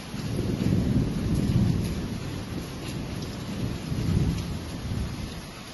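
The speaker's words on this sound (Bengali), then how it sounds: "বাইরে তুলকালাম বৃষ্টি পড়ছে" Heavy rain pours steadily outside with rolling thunder rumbling through, swelling and easing in low waves over the constant downpour.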